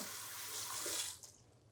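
Corn kernels being rinsed under a running kitchen tap, with a steady close splash of water that fades out as the flow stops.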